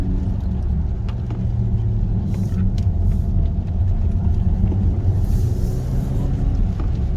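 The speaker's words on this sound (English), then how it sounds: "The inline 6 just powers right up them" A 2024 Mazda CX-90 inline-six turbo engine drones steadily uphill with a low, continuous rumble, pulling hard and even throughout with no talking.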